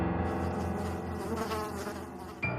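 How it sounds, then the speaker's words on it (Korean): A dense swarm of dozens of flies buzzes nonstop by a low semi-basement window in a dark alley, a loud, close, steady droning hum that swells slightly, heard alone. "수십 마리의 파리들이 쉴 새 없이 소리를 내며 날아다니고 있었다"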